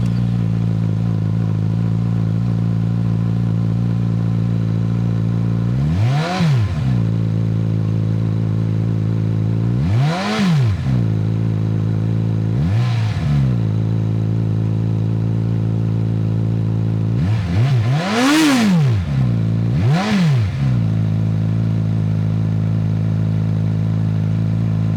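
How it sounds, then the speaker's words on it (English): A Suzuki GSX-S1000GX with a stainless steel exhaust runs with a steady, loud idle, broken by about five sharp throttle blips that rise and fall in pitch. "this is how this motorcycle sounds"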